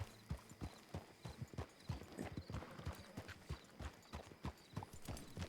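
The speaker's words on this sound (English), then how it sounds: "I hate when I hear a horse." Horse hooves clip-clop in a steady trotting rhythm in a video game, fairly close, with a brief whinny mixed in and no voices.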